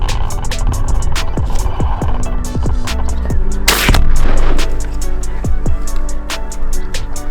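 Shotgun blasts at waterfowl during a public-land duck hunt in North Dakota, several sharp loud reports in quick succession with echoing tails over a windy outdoor background, no talk.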